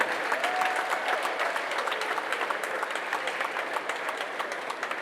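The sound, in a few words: audience applause for Professor Opoko Ajiman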